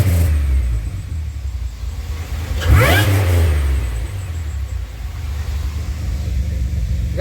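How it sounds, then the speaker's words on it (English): A 2007 Pontiac Grand Prix's supercharged engine idles, then gets a sharp rev that rises and falls once before settling back to a steady idle, loud and close. "Give her a couple revs."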